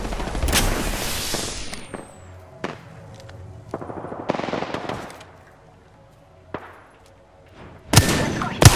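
Heavy automatic gunfire from the video game Apex Legends, several loud rapid bursts separated by short pauses, with a final sharp volley at the end.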